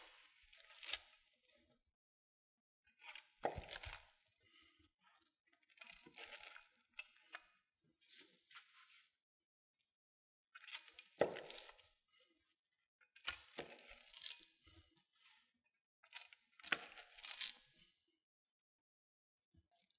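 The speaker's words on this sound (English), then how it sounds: "I get to use the mezzaluna. We'll go ahead and make some cuts" A mezzaluna rocks through a sausage and giardiniera tavern-style pizza, making six separate crunchy cuts in bursts spread across the span, each a short crackling tear through crisp crust with quiet gaps in between.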